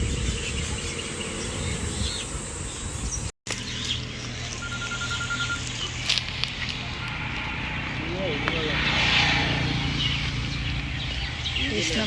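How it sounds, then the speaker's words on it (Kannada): Many birds chirp and call from a tree laden with fruit, a dense outdoor chorus mixed with insect-like buzzing, with brighter calls surfacing near the end. "ಈ ಮರ ಪೂರ್ತಿ ಹಣ್ಣಿದೆ, ಅದಕ್ಕೇ ಫುಲ್ಲು ಪಕ್ಷಿಗಳಿದೆ, ಅದಕ್ಕೆ ಅಷ್ಟು ಸೌಂಡು."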